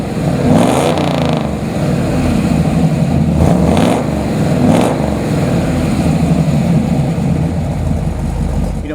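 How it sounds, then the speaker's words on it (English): A 1969 Chevrolet Camaro Z/28 V8 runs loud and close, with a steady rumbling idle broken by a few sharp blips of the throttle. "How about I fire it up for you so you can hear what it sounds like."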